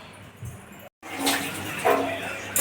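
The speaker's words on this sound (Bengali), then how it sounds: "মাছ কাটা ধুইতে যাবো, ধুয়ে নিয়ে আসি এখন" Cut boal catfish being washed in water, a continuous splashing and running-water wash close by, rising louder after a brief silent gap, with no speech.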